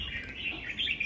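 Caged songbird singing, a short bright chirping phrase with warbling notes, close and clear, no talk.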